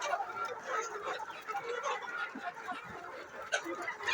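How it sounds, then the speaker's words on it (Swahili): Many hens cluck and cackle at a large poultry farm as the housing is being built, a dense overlapping chatter at moderate distance with a few sharper calls standing out. "mpaka hapa juu yote ni kuku"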